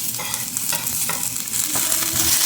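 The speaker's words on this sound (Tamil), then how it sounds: "இப்போ தக்காளி போட்டுக்கிறேன்" Chopped tomato drops into hot oil with green chillies for a potato masoor dhal, giving a loud, bright sizzle that swells steadily, with a few stirring scrapes underneath.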